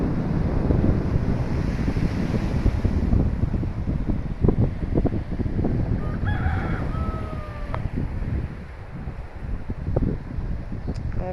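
Ocean surf and gusting wind roar continuously on the Guyana coast under heavy, dark clouds, with a rooster crowing faintly in the middle.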